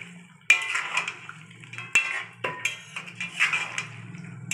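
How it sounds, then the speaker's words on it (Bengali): Chicken is stirred in a pan for chilli chicken, with a sharp metal clank of spoon on pan, then intermittent scraping and clinks over a low steady hum. Nobody speaks. "দিয়ে এবার ভালো করে নাড়াচাড়া করে নেব"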